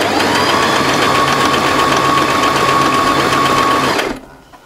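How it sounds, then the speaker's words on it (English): Home sewing machine running a long basting stitch through dress fabric, loud and close, a continuous steady motor hum that stops abruptly near the end. "And that's my basting stitch, or close to the basting stitch as my machine can do."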